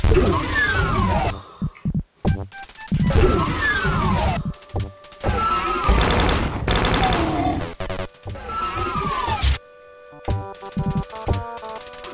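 Rapid chain gun fire in the shooter WolfenDoom, loud mechanical bursts of fast repeated shots broken by short silences, mixed with crashing impacts and grunting, close and harsh.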